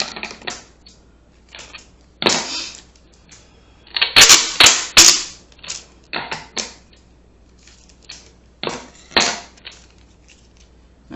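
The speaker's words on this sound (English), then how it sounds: "use tape to seal up the model that I made" Tape being pulled and pressed to seal a handmade resin coaster mold, with short sharp crackling tears and bursts, a dense cluster in the middle, close and fairly loud with no talk.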